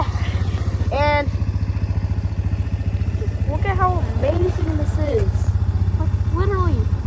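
A four-wheeler ATV engine runs at a steady, throbbing idle close by, with a voice talking over it at intervals.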